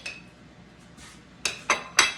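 A utensil cuts into sausage spaghetti pie in a casserole dish, giving a few faint scrapes and then three sharp, close clinks against the dish in quick succession.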